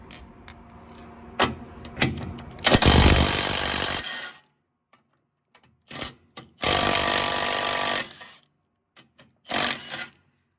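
Power tool tightening exhaust clamps on a truck, with a few short taps followed by two long, loud rattling impact bursts and a final brief burst, separated by silence.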